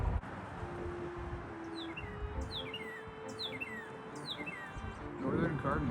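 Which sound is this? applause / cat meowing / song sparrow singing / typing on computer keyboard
song sparrow singing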